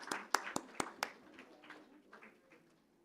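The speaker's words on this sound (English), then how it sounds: "Big round of applause again, please," Audience applause at a conference on women in climate action: five or six sharp claps at the start, then scattered softer clapping trailing off into quiet.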